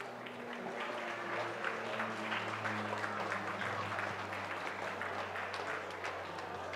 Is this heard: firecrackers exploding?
no